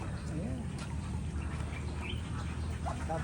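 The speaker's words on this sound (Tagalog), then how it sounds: "ang daming bibi oh" Ducks quack on a farm in a flock, with several quick calls and chirps over a steady noisy background while a person talks nearby.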